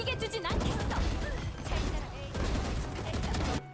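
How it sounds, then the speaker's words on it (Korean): Gunfire from the shooter game Valorant comes in rapid bursts of sharp shots and crashing impacts. A voice talks over the shots, and the clip ends abruptly. "난 그저 페이드한테 총소리만 내달라고 했을 뿐인데"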